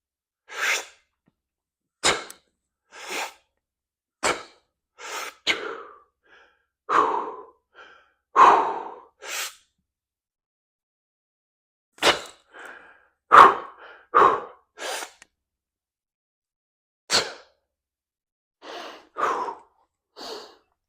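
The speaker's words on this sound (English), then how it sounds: "So you can see I use multiple breathing styles for that, or I should say breathing patterns." Forceful breaths during a kettlebell overhead press: a series of sharp, loud exhalations and short hissing bursts repeated at irregular intervals, close to the microphone, with pauses of silence between and no talk.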